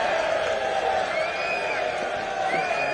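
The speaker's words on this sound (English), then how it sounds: "The Lewes fans behind the goal cheering on at Bognor Regis" Lewes football fans behind the goal at Bognor Regis raise a steady, distant crowd roar with whoops and sung tones, while a commentator's voice runs over it.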